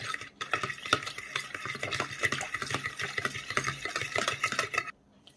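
A spoon stirs a seasoned mixture for eggplant batter, salted and flavored with black pepper and dried garlic, in a bowl, giving steady scraping and clinking strokes that carry on for about five seconds before stopping, with no talk.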